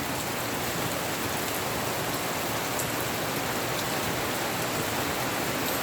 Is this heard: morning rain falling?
yes